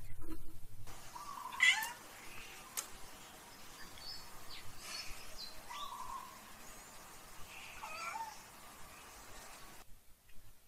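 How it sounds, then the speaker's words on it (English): A cat meows faintly a few times amid quiet background noise, with soft chirpy calls scattered through the clip. "C for cat."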